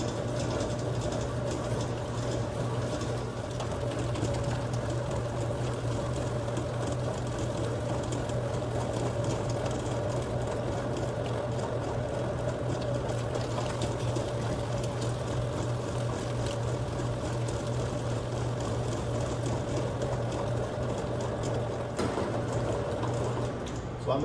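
A stand mixer beats choux pastry dough with a steady, continuous motor hum and whir, moderately loud and unbroken for the whole stretch, with no talking.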